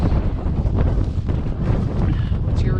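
Steady wind at roughly 20 to 25 mph roars across the microphone on the summit of Mount Jefferson in winter, a loud, continuous buffeting rush with gusty swells.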